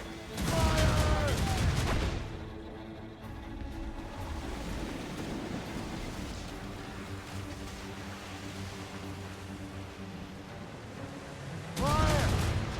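Cannon fire from sailing warships in Assassin's Creed Rogue: heavy booming volleys at the start and end, with a rumbling sea-battle backdrop and shouted orders from a crew in between.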